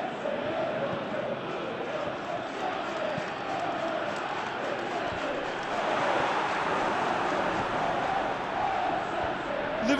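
Steady roar of a large stadium crowd in the football video game PES 2021, a Champions League final between Manchester City and Liverpool, swelling slightly midway and holding a dense, continuous wash throughout with no voices standing out.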